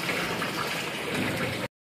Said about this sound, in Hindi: बेगम साहिबा जो है ना सैन में पानी लगा रही हैं